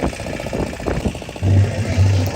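A motorboat crosses deep water on Chilika Lake, Odisha's brackish lagoon, its engine a loud, close, continuous drone under rushing wind and water noise.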